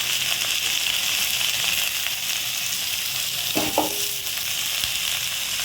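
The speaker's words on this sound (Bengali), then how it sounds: "এই যে বন্ধুরা করলা ভাজি আলু দিয়ে আস্তে আস্তে হচ্ছে এটা ভেজে নেই" Potatoes, bitter gourd and onion fry in a pan, giving a steady, even sizzle throughout, with one brief stirring scrape partway through.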